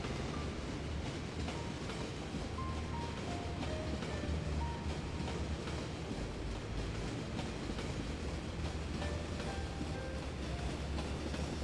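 A continuous rumbling intercity train passes in Cities: Skylines with clattering wheels and faint squeals, a dense mechanical roar that stays even throughout.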